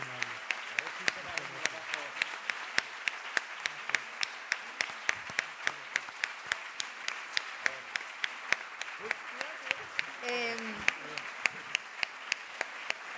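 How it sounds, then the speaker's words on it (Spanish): Audience ovation for the guests at a historical novel week event in Cartagena, heard as sparse, rhythmic claps with distinct sharp hits at fairly low level, while voices talk over them. "ha llegado el momento de darles una calurosa ovación a nuestros invitados"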